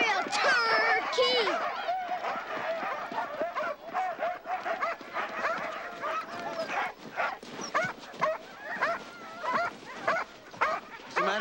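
Dogs bark, yip and whimper throughout, close and fairly loud, with voices talking over them in the busy scene.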